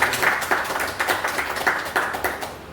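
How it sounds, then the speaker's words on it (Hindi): Audience applause at a team event, a burst of clapping with rhythmic peaks that rises and fades over a few seconds, fairly close and without talk. "एक जोरदार ताली होनी चाहिए।"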